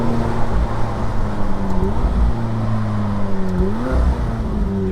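A car engine accelerating through first, second and third gears up to 70, its steady drone climbing in pitch, dipping at each shift and rising again, loud and close with no talking.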